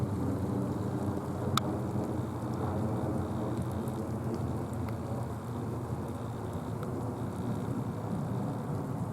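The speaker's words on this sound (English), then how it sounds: "the rain's getting on it." Rain falls steadily on a camera outdoors during a storm, a dense, even hiss with faint patters and a distant rumble.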